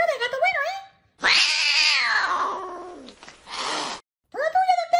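A cat gives several long, wavering meows and caterwauls, loud and close, separated by short gaps, while excited speech can be heard in between.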